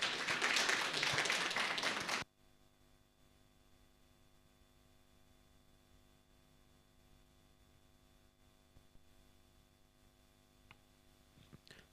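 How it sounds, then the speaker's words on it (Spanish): A church congregation at a prayer service claps loudly to welcome Pastor Abraham Pérez, a dense burst of about two seconds that stops suddenly, leaving a quiet room with a low electrical hum and a few faint taps. "Con fuertes aplausos al pastor Abraham Pérez"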